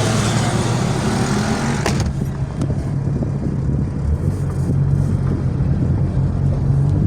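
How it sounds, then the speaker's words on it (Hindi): Road traffic on a busy street rumbles steadily with engine drone and passing vehicles, loud and close, while a louder vehicle fades away early on. "गाइस इतनी कोई ट्रैफिक होती है बल्दिया वाली साइड"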